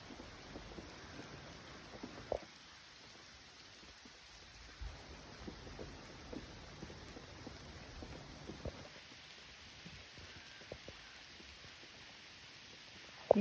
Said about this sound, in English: More storms this morning.